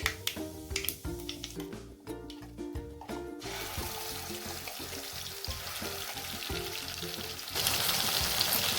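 Crackling sizzle of a ground spice paste frying in hot oil with cumin and mustard seeds, steady and close, with a louder burst of sizzling near the end.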